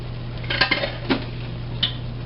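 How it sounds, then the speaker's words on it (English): Cooked ground turkey is dumped from a metal pan into a strainer, giving a few clattering scrapes and knocks of cookware against a steady low kitchen hum. "what I'm going to do is put the meat in a strainer"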